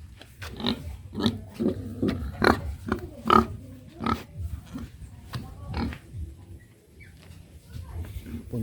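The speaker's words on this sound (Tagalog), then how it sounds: "baboy." A pig on a farm in Libertad, Daanbantayan, Cebu, grunting and oinking in a run of short, close bursts, with people talking around it.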